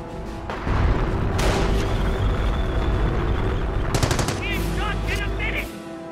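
Machine gun fire in the World War II strategy game Company of Heroes, Normandy campaign at Hill 192: loud sustained rattling bursts with heavy booms, then a few sharp shots and brief game sound effects.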